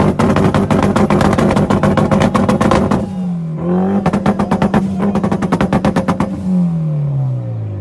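A tuned Mitsubishi Lancer Evolution VI at a motor show in Dhaka, its engine revving hard in rapid staccato bursts. Two loud revving runs are separated by a dip to a throaty idle, and the final rev falls away as it ends.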